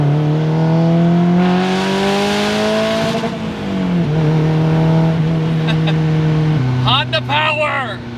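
A Porsche fitted with a swapped Honda K24 engine pulls hard, its loud, droning engine note climbing in pitch, dropping with each gear change, then rising again.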